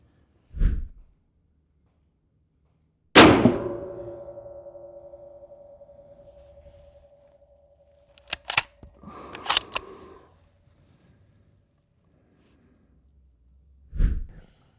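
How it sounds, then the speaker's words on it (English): Rifle shots fired at a range while zeroing a rifle: a single sharp report, then a loud crack with a long ringing decay, then a few more shots spread out across the span, each distinct and separated by quiet. "I shot a total of 4 rounds"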